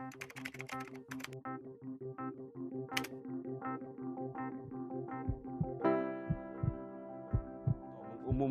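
Computer keyboard typing taps out a rapid run of light, close clicks, followed by a few louder thumping strokes near the end over a faint background hum.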